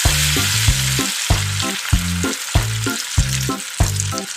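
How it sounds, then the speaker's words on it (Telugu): Spices and green chillies frying in hot oil for an Andhra-style mutton curry, a steady loud sizzle with regular stirring scrapes about every second and a half, no voices. "కట్ చేసి పెట్టుకున్న పచ్చిమిర్చిని కూడా వేసుకోవాలి. వేసుకొని మొత్తం బాగా వేపుకోవాలి."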